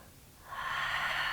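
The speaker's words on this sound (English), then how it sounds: "just by breathing as we're doing, that's Ujjayi breath." A single slow Ujjayi yoga breath, a soft, ocean-like rush of air through a narrowed throat that swells in halfway through and holds, close and quiet.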